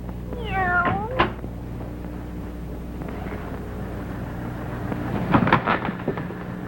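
A black cat meows in a 1941 western film scene, one clear drawn-out meow early on followed by softer sounds and a rumbling, knocking patch later, with no talk.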